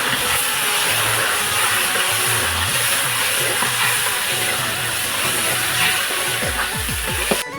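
Yardlong green beans dropped into deep hot oil, sizzling loudly and steadily as a broad, hissing frying roar, with faint clatter near the end.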